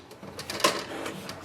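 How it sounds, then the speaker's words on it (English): Rear paper tray of a Canon Pixma TS5320a printer slid out, a short plastic scrape with a sharper click near the middle, faint and close against quiet room noise. "At the back of the printer you will see the rear paper tray. You can just slide it out,"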